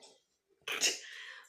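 A single sharp, close sneeze from a woman bursts out after a moment of near silence, followed by a brief breathy tail.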